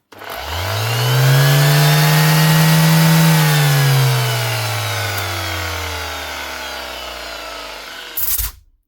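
A Makita BO6030 sander powers on and spins up with a rising electric whine, holds a loud steady hum, then winds down slowly, ending with a brief knock.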